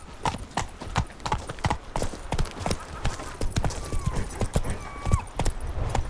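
Roach, the horse in The Witcher 3, gallops with rapid, irregular hoofbeats that pound close and loud for several seconds.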